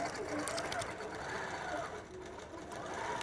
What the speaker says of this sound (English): And now the machine's going to do that sewing for me right there in that sashing.